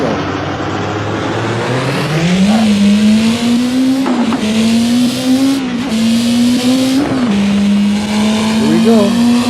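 A car accelerates at full throttle with a loud, close engine drone that climbs and holds in pitch, dipping briefly at each gear change, with faint tire squeal underneath.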